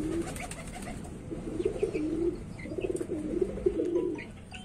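A Madrasi tippler pigeon coos in repeated low, throaty phrases, close and clear, over a soft background murmur.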